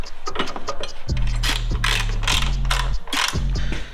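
Ratchet tightening bolts on a Redline Tuning hood lift on a Jeep JL, making a series of close, loud clicking runs with short pauses, with no talking.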